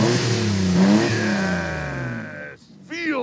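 Maserati Biturbo engine cranking and catching, then revving with rising and falling pitch, loud and close, followed by a brief cut-off and another sharp rev at the end.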